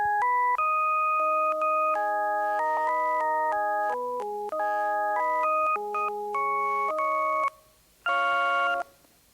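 Organ-like synthesizer tone made of a few summed sine waves at different mixer levels, stepping through a sequence of steady chords with short gaps, ending in a brighter, denser burst; clean and electronic, with no voices.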